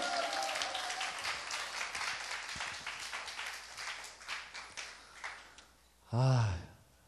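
Church congregation at a Sunday worship service clapping and calling out together, a dense sustained wash of applause and voices for about six seconds before a short loud exclamation near the end.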